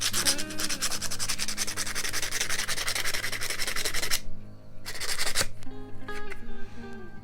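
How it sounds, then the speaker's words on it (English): Sandpaper rubbed rapidly over a wood burning pen tip, a loud, harsh, continuous close scratching with dense rhythmic strokes, a brief pause near the end, then a shorter burst of sanding. "you can take some sandpaper and like, this is a terrible noise, and kind of sand"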